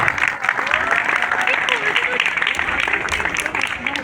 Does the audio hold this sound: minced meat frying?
no